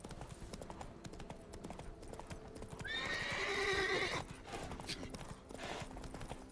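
Roach, a horse in the video game The Witcher 3, gallops with rapid rhythmic hoofbeats and lets out a loud whinny midway, close and clear amid game ambience.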